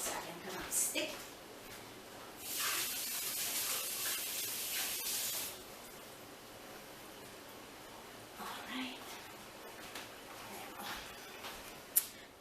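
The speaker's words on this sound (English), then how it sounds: "I just need to rinse 1 second because I'm sticky." Sticky hands rinsed under a running tap in a home kitchen while making Italian bakery cookies: a soft rush of water lasts about three seconds, with quieter splashes later and faint voices in the background.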